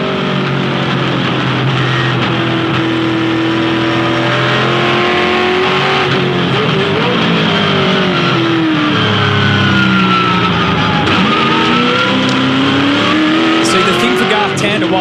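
V8 Supercars racing at Phillip Island, engines roaring loud and steady with shifting pitch as cars run through a corner in third gear, a commentator talking over the constant engine noise.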